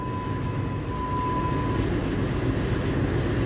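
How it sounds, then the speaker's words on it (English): A MAN B&W 6S60ME-C two-stroke marine diesel engine runs dead slow ahead in an engine room, a loud, constant low rumble with a thin steady tone fading partway through. "the engine fires on dead slow ahead"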